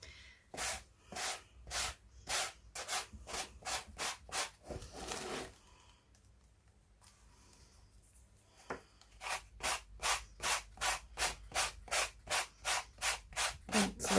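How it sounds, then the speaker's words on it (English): Light sanding of black paint off a mixed media background: a rapid run of rhythmic back-and-forth rasping strokes, then a pause of near silence, then another steady series of close, scratchy strokes. "I'm just going to give it a quick, really light sand to take a little bit of that black paint off."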